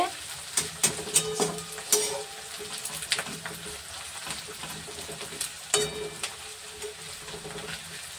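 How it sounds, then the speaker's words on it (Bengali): Onions frying in a pan for a mutton curry, a steady sizzle broken by sharp scrapes and clatters of a spoon stirring against the metal, close and fairly loud, with no voices. "একটু লাল লাল করে ভেজে নিতে হবে"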